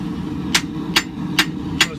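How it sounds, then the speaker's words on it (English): Four evenly spaced, ringing hammer blows strike a steel knife blade being forged by hand to shape its bevels, each sharp and close with a quiet gap between. "So I'm just forging these bevels down."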